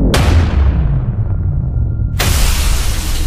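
Loud explosion sound effect in an audio drama, a burst of air blasting sideways: a sharp broadband boom at the start decaying into rumble, then a second heavy blast near the end, with no talk.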